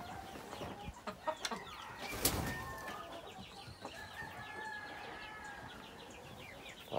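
Heritage-breed chickens on a free-range farm clucking in short bursts at close range, with a rooster call mixed in and no talking.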